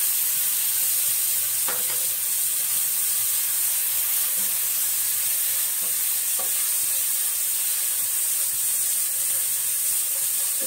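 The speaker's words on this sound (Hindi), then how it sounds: "फिर मैं यहाँ पे ये हमारा ग्रीन चिली लहसुन और अदरक का पेस्ट डाल देती हूँ" Coarsely ground green chili, garlic and ginger paste fries in a pan while vada pav filling is made, giving a steady, loud hiss of sizzling oil with a few faint clinks of stirring.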